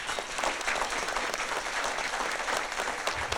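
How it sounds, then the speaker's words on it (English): An audience at a community health event claps for a doctor, a dense, steady burst of applause filling the room for a few seconds. "Let's give the doctor a round of applause"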